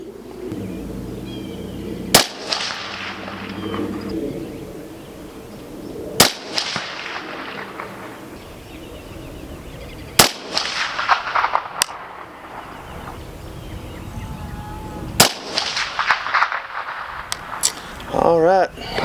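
Rifle shots from a PSA M110 SASS clone, a semi-automatic rifle, crack sharply about four times at slow, spaced intervals outdoors, each followed by a lingering echo.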